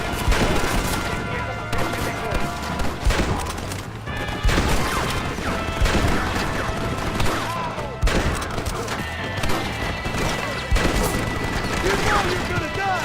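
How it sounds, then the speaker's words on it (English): Rapid machine gun fire in a Red Dead Redemption shootout at the Allende mansion, dense bursts of gunshots and crashes running continuously and loudly throughout, with heavy battle clatter. "They have a machine gun!"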